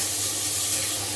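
Beef dropped into a hot oiled pot sears with a strong, continuous hiss that stays loud and close throughout, with no talk.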